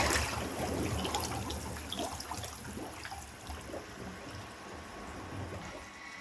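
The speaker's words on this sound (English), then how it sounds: "As the water starts bubbling and moving in the treadmill" Water bubbling and churning in an aquatic treadmill tank, a soft continuous trickling and gurgling wash at low volume, steady throughout with no voices.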